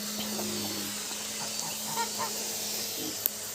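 Ducklings sitting apart on a farm give faint, scattered calls over a steady background hum.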